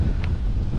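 Strong outdoor wind buffets the microphone during a street scrap collection, a loud continuous low roar with rumbling gusts and no speech.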